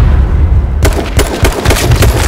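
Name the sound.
gunshot headshot in a first-person shooter video game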